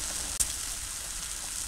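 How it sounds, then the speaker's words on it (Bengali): Turmeric, chili powder and salt frying in a pan for a light fish curry, a steady close hiss of sizzling with one soft knock. "এবার মশলা ভুনে নেই"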